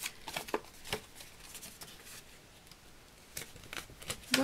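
Paper being cut with scissors while making a Christmas album, a series of short crisp snips and rustles at close range, some clustered quickly together with a quieter pause in the middle.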